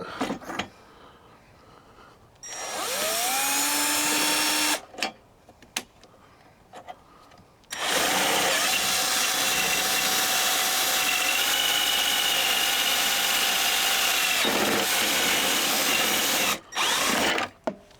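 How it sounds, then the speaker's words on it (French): A power drill bores through the plastic plate of a Transalp 750 motorcycle while fitting SW-Motech luggage racks, whining in two loud, close bursts separated by a short pause, with the motor's pitch shifting as the bit cuts. "On enlève la vis et on va percer."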